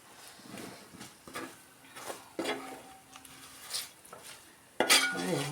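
Fish pickle mixed with chilli powder is stirred in a pot, with soft scraping and intermittent clinks of a spoon against the metal, fairly quiet and close, ending in a louder scrape.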